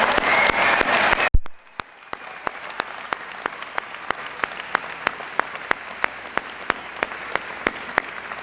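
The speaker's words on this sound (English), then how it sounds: "Big round of applause." Sustained audience applause at an MBA graduation ceremony, a dense wash of clapping that drops suddenly, then scattered sharp claps continue at a steady pace.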